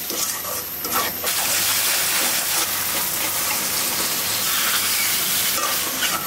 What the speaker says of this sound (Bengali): এলাচ কষাচ্ছি